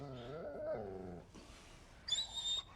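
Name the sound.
dog whimpering after being bitten by a cougar, from a film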